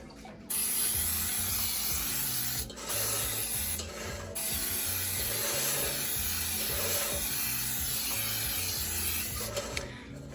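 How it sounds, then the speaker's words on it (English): Baker's Joy baking spray hisses into a separating cake pan resting on a cookie sheet. Several long aerosol bursts come close and loud, broken by brief pauses. "We're gonna first start by spraying with some Baker's Joy"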